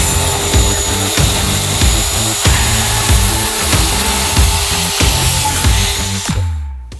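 A Bosch GKS 140 circular saw whines steadily through a wooden beam for several seconds, loud and close, with a rhythmic pulsing as the blade bites, then spins down at the end.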